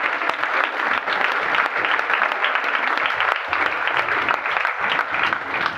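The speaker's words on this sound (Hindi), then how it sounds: "एक बार जोरदार तालियां उनके लिए।" A large audience at a public talk breaks into strong, steady applause, dense clapping continuing throughout without pause.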